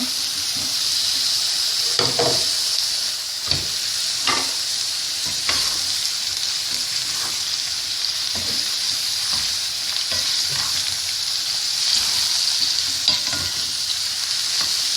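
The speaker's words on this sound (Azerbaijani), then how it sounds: "Və badımcanlara sıxdıqdan sonra əlavə edirik kartofumuzun, soğanımızın üstünə." Eggplant frying in a pot over potatoes and onions for an Azerbaijani sandal dish: a steady close sizzle with occasional stirring scrapes and clinks of a utensil against the pot, no talking.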